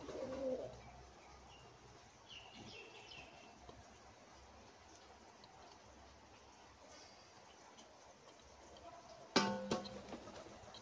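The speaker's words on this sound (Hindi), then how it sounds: "सारे मेरे कबूतर आ गए खाने के लिए।" Pigeons cooing softly in the distance as they gather to feed, low murmuring calls over quiet outdoor ambience, with a brief louder chirp or clatter near the end.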